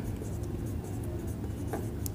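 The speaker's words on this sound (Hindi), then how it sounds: "तो लिखते हैं कि" Chalk or marker scratches across a classroom board in quick, uneven strokes during a class 10 coordinate geometry lesson, close and steady with faint room noise and no talking.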